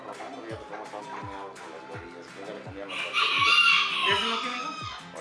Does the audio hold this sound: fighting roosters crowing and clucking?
yes